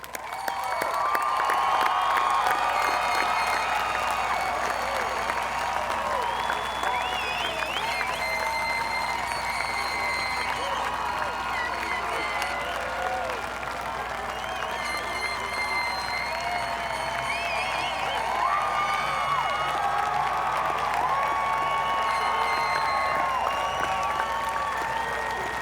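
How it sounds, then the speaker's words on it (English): A standing ovation for graduates at a technical school graduation ceremony: sustained crowd clapping with scattered cheers and whoops, steady and full for the whole stretch, heard from somewhat back in the hall. "A well-deserved standing ovation"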